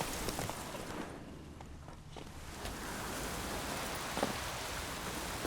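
A steady rain downpour in The Witcher 3 hisses throughout, with faint footsteps or hoofbeats passing under the constant wash of rain.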